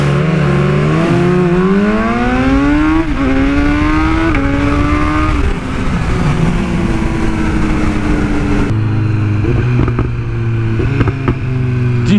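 A BMW S1000R motorcycle engine revs hard and loud, climbing through gears in rising sweeps, then settles into a steadier lower drone near the end.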